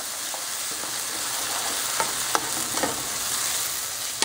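Fideo noodles cook and are stirred in a pan. A continuous sizzle carries light clinks and scrapes from the spoon, and no one speaks.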